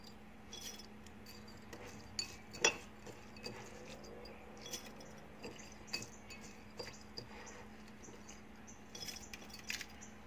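Light clinks and taps of washed rice and utensils against a glass jar in a home kitchen, scattered faint ticks with one sharper clink, over a quiet background hum.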